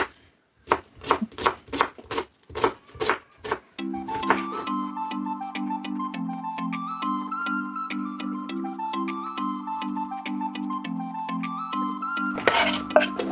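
A knife chops an onion rhythmically on a board, about a dozen crisp strokes, then a melodic tune plays over occasional cutting.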